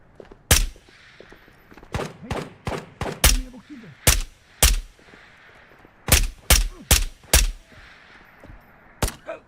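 Single gunshots from a VR shooter, Ghosts of Tabor, crack out in irregular bursts of two to four, loud and close, with short quiet gaps between volleys.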